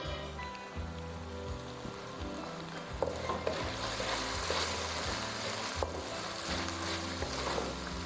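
Spiced masala sizzles and fries steadily in a karahi pan alongside tomatoes and garlic, a continuous crackling hiss with occasional stirring scrapes and pops, close and moderately loud, with low music underneath.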